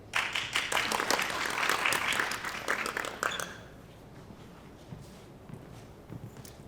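A small audience at a college play claps for about three seconds in a dense burst, then it thins out to a few scattered, quieter claps and near silence.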